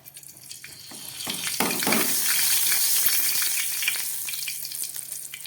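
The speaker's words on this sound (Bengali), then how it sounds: "এই মাছ ভাজার গরম তেলের মধ্যে আমি দিয়ে দিচ্ছি 1/2 চামচ সর্ষে" Mustard seeds drop into hot oil left from frying fish, setting off a loud, steady sizzle that swells after the first second and holds, with faint crackles and pops scattered through it.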